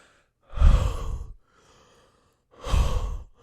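A man imitates an exhausted fighter breathing heavily through the mouth: two long, loud, breathy exhalations about two seconds apart, close up, with a faint inhale between them.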